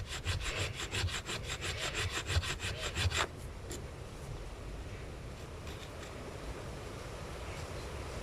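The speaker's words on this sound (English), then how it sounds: "Here I'm using an edge of a flake to scrape and cut in a new channel that will guide my plough" Sharp stone flake scraping and cutting a channel into a flat silver oak board for a friction-fire plough, a fast rhythmic rasping of repeated strokes that stops after about three seconds, leaving a steady hiss.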